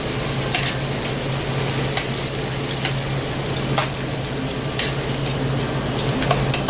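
Chicken sizzles and fries in a pan of rhubarb olive oil, a steady, dense crackle with occasional louder pops throughout, close and continuous with no talking.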